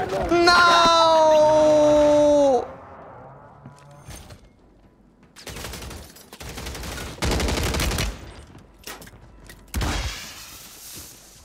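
Airstrike explosions in the video game Warzone on Rebirth Island: a high, wailing tone opens, then several loud, separate blasts and bursts follow, with gunfire and voices shouting over the action.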